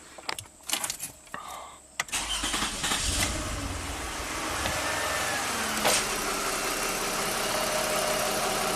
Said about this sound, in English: Let's just run the car,